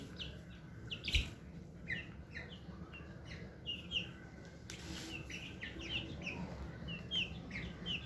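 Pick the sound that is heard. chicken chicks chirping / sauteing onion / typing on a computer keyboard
chicken chicks chirping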